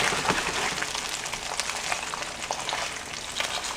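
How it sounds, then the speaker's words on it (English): Steady sizzling and crackling of salmon lightly frying in a pan over low heat, continuous and close, with scattered pops throughout. "It's a very light frying."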